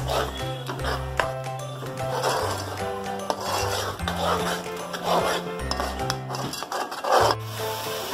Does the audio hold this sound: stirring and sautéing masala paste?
yes